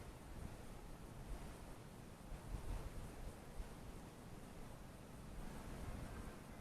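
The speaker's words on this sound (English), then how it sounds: "And the wind's picking up." Wind blows steadily outdoors, a broad rushing roar with low buffeting gusts that swell slightly around the middle, continuous and close to the microphone with no talk.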